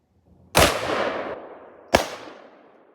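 Two Desert Eagle .50 AE pistols fire one at a time: two sharp, loud gunshots about a second and a half apart, each trailing off in a ringing echo, with no talking.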